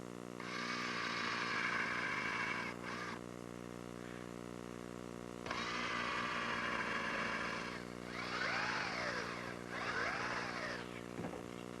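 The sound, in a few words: power drill pre-drilling holes for brass screws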